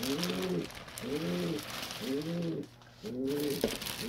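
A male pigeon coos at close range in a series of four rhythmic, rolling low calls, with steady background noise between them.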